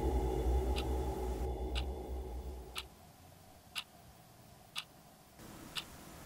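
A clock ticks in a silent house, with evenly spaced sharp ticks about once per second that stand out over a faint background hum.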